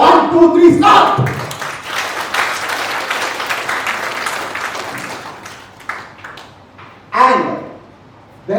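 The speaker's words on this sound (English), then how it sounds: "Can you clap?" An audience claps together on request, a burst of applause about six seconds long that fades out, with brief talking at the start and a short shout near the end.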